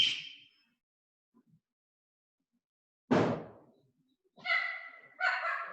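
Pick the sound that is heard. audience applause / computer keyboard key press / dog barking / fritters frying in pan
dog barking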